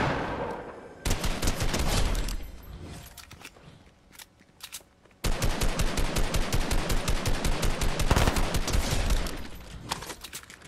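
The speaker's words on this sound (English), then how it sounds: "Oh, that sounds like an LMG." A light machine gun fires in the battle royale game Fortnite in long sustained bursts of rapid, evenly spaced shots, loud and close, broken by a short pause before the fire resumes.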